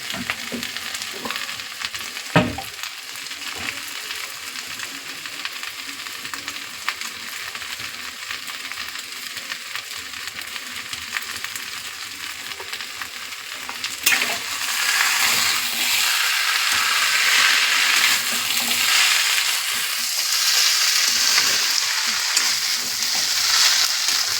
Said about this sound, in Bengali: এক চামচ ঘি দিয়ে দিলাম এবার ঘিটা মিশিয়ে দেবো